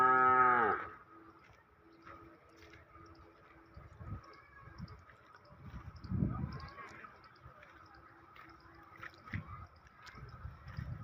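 A high-breed heifer calf in a village gives one loud, close moo at the start, followed by quieter shuffling, dripping and faint farmyard noises.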